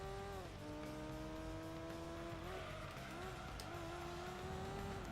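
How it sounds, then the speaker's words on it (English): Car tires squealing in Gran Turismo 2 as the car slides and loses control, long wavering screeches over a droning engine, continuous and fairly faint. "Car losing control everywhere."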